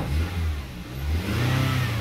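A Toyota/Lexus engine, with a P2127 throttle pedal position sensor fault, revs up as the accelerator pedal is pressed, rising and falling in two swells from a steady idle, close by and with no talking.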